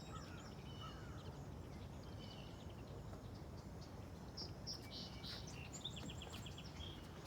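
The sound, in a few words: song sparrow singing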